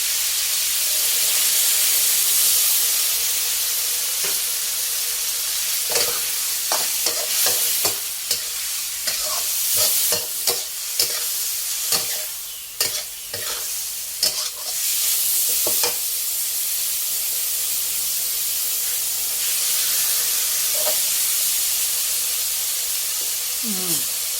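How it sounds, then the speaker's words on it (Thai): Long beans and minced pork stir-fried in a pan after water is added, a steady close sizzle and steam hiss broken by bursts of utensil scraping and stirring in the middle. "ผัดแป๊บเดียวค่ะ"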